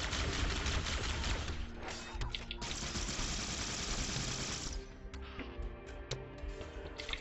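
Dense, rapid bursts of automatic gunfire from the video game Halo in The Master Chief Collection, with loud, continuous rattling volleys throughout and slightly thinner shots toward the end.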